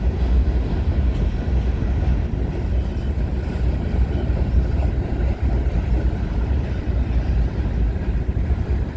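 Continuous heavy rumble of a CN freight train with grain cars and a mid-train DPU locomotive passing at night at Milepost 23 on the York Subdivision, loud, steady and close throughout, with no voices.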